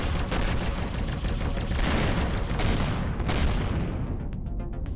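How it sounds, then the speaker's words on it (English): Spaceship turrets blasting away in the space game Avorion, a dense, loud, continuous barrage of rapid gunfire-like bursts lasting throughout, with the high crackle thinning toward the end. "Oh, my turrets are overheating."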